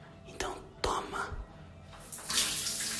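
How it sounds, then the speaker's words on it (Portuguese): Tap water runs into a sink in a home bathroom, a broad hiss that swells in bursts, with soft whispering voices over it. "Toma barulho de água"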